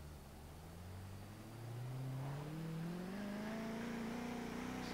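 A Koenigsegg in Forza Horizon 3 accelerates with a steadily rising engine whine, pitch climbing smoothly through the gears. The engine drone stays fairly quiet and even throughout, with no talk over it.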